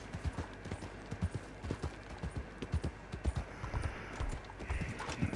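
Horse hooves clip-clop steadily as a rider moves along in a video game, a regular trotting rhythm of sharp, close thuds continuing throughout with a faint background hum and no talking.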